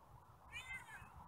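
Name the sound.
cat meowing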